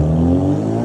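Volkswagen Jetta fitted with a 3-inch full stainless-steel exhaust, revving loudly and close by in a steady, droning rev that holds through the whole short burst with no voices.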